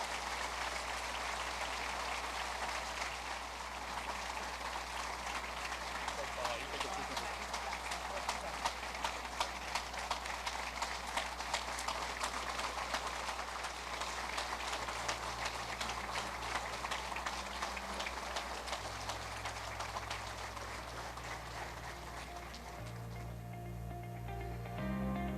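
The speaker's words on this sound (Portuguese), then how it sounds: "Aplausos mais do que merecidos por tantas conquistas nessa gestão." Sustained applause from an audience at a formal inauguration ceremony, steady dense clapping throughout, with faint background sounds near the end.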